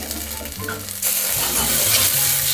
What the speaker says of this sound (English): we're just gonna let that sizzle down there for a minute